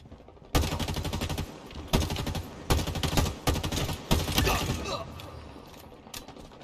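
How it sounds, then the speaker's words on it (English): Bursts of automatic gunfire from Halo Infinite during a capture-the-flag match on the Bazaar map, five loud close volleys in quick succession followed by fainter shots, with no talk. "It's always two shooting at me, man."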